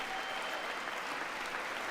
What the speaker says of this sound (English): He's got some claps, a few claps